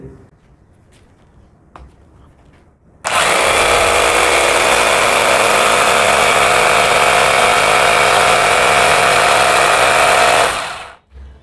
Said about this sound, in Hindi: चलिए अब हम करते हैं अपना ड्रिल।